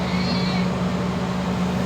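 A short, faint cat meow plays in a supermarket checkout video game after a cat is scanned by accident. It sits over a steady, loud background hum.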